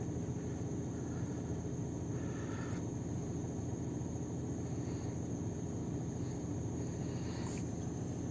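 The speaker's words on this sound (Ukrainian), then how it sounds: "Покажу, як працюють форсунки." A warmed-up 150 hp TDI diesel in a VW Touran 2 Comfortline idles with its four injectors working, a constant dense rumble with a fine rapid ticking texture, steady and close, no voices.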